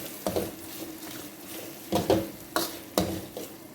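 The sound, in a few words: stirring fried anchovies and dried shrimp in a pan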